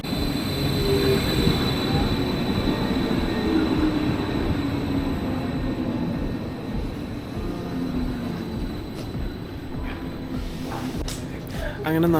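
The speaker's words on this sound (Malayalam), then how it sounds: "അങ്ങനെ നമ്മുടെ ട്രെയിൻ വന്നേക്കാണ്." A train pulls into a station near Berchtesgaden in the German Alps, a steady rumble of wheels on rails with a faint high squeal and hum, close and continuous throughout.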